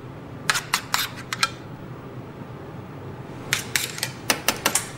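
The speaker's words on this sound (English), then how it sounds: "get your bowl and spoon that in there" A spoon clinks sharply against a bowl in two short clusters of taps as aubergine caviar is served, with a quiet room hush in between.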